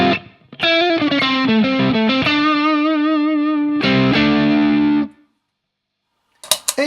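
An electric guitar played through an MXR overdrive pedal gives distorted, sustained notes and short bent phrases, loud and close. The playing stops after about five seconds, and a brief burst of strums returns at the end.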